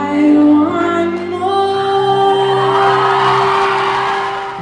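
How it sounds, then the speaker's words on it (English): Schoolchildren scream and cheer at a teacher karaoke night, a loud, sustained crowd roar with whoops rising over steady musical tones and swelling toward the end. "The kids are screaming and cheering."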